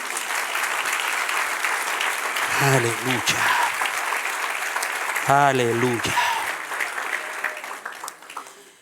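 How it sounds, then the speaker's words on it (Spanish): A church congregation claps steadily throughout, with a voice calling out twice partway through over the ongoing applause, which tapers off near the end. "Denle otro aplauso al que reina."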